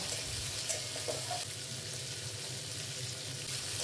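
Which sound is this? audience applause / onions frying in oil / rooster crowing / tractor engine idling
onions frying in oil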